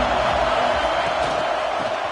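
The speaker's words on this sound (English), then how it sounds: "This crowd ready to make its presence known" A stadium crowd roars at a Temple versus Nebraska college football game, a steady dense wash of cheering noise at constant loudness with no gaps.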